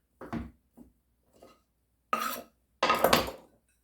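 Kitchen knife strikes on a cutting board while chopping cooked chicken for a chicken pot pie, a few light taps followed by two louder, denser bursts of chopping close by.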